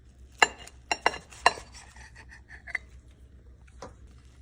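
Several sharp knife strikes on a cutting board while slicing food, spaced in a loose rhythm with a few quieter taps after, close and moderately loud over a low background hum.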